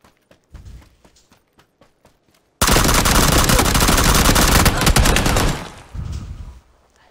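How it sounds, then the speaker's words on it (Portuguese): Rapid automatic gunfire in the battle royale game PUBG: sparse single shots first, then a dense, loud sustained burst lasting several seconds before tapering into a shorter volley, with no talk over it. "Olha o tiro, Michel"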